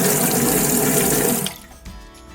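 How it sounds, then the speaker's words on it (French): Tap water runs steadily into a camper van sink from a faucet fed by a 12-volt auxiliary battery. The flow rushes loud and close, then cuts off partway through, leaving faint drips and a quiet room. "Le robinet connecté à la batterie auxiliaire 12 volts permet également d'avoir de l'eau potable."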